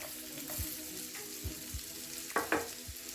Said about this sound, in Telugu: పచ్చిమిర్చి కూడా వేసి ఫ్రై చేసుకోవచ్చు